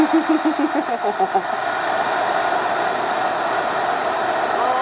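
Something sizzles and drips as a loud, steady hiss that fills the whole stretch, with a brief pulsing warble near the start.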